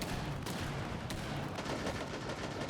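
In a tactical shooter game match, explosions and gunfire rattle in dense, rapid bursts, with sharp cracks breaking through a continuous noisy backdrop at moderate distance.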